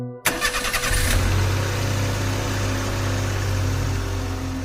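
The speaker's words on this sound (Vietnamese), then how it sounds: "Động cơ diesel gầm lên mạnh mẽ." An orange Ford Ranger pickup with a diesel engine cranks briefly in a garage and catches, then settles into a loud, steady rumbling idle close by.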